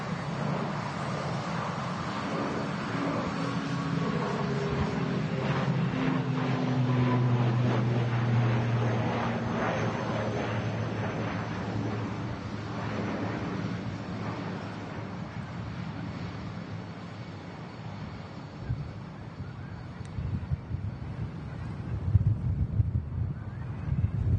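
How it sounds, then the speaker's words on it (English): Gusty crosswind buffets an outdoor microphone at Manchester Airport, a steady loud roar of wind noise rising and falling for the whole stretch, with no talking. "Pretty choppy today, though, wind-wise. Yeah, it sounds it."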